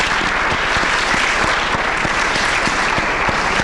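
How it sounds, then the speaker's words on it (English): An audience claps together in a steady, dense round of applause at an evening gathering of Muslim law students, sustained and fairly close throughout. "Let's give him a round of applause."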